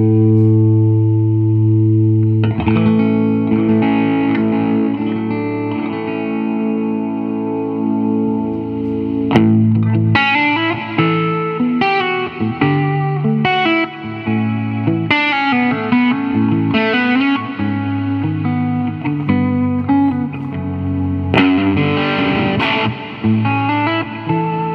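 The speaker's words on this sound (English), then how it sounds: "We're also going through a Fender Super Reverb amp, starting off on just that one pickup." A 1967 Gibson SG Jr. electric guitar on one pickup plays through a Fender Super Reverb tube amp with a sustained chord first, then busier strummed and picked phrases, warm, reverberant and moderately loud.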